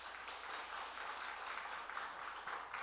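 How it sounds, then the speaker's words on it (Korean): A church congregation at a Sunday morning service applauds in steady, continuous clapping, moderately distant and filling the room evenly without pauses. "여러분 인사할 때 격려로 박수해 주시기 바랍니다"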